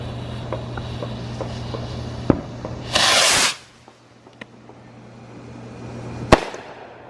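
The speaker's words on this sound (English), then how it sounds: "Cameron's about to hit another submarine rocket" A submarine rocket firework explodes at an outdoor show: a loud, hissing broadband burst lasting under half a second, then quieter crackles and one sharp bang later, over a low steady hum.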